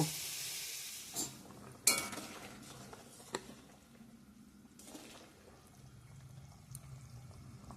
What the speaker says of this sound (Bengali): আর এইখানে ডিমের অমলেটগুলো ভেজে রাখছি